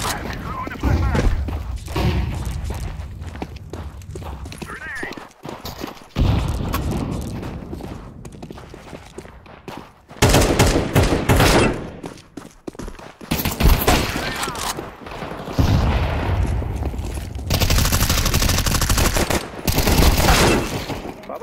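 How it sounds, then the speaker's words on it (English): Counter-Strike 2 gameplay erupts in loud bursts of rapid gunfire and sharp bangs, including a flashbang, broken by short lulls, with a voice calling out over the action. "Flashbang!"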